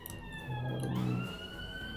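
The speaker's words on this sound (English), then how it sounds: "Sorry about the sirens." Emergency vehicle sirens wail from outside, with steady rising and falling tones and a low rumble swelling briefly, audible throughout a short stretch without speech.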